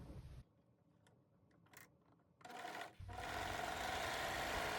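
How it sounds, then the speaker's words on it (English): A serger running as it stitches satin fabric for a scrunchy, starting with a short burst, then quiet handling, then a steady, loud mechanical whir that builds and holds to the end. "And I'm just going to put it through the serger."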